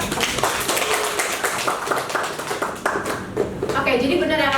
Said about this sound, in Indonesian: boleh kasih tepuk tangan dulu buat Cika